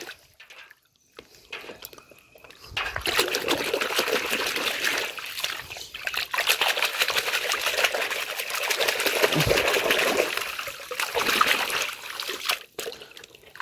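Water running and splashing over a colorful toy vehicle being washed, with trickling and pouring that swells and eases in uneven bursts, close by and without talking.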